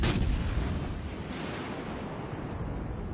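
Heavy naval gun salvo from a Baltimore cruiser's front turrets in World of Warships Legends, a loud booming blast that rolls into a sustained rumbling roar and slowly fades.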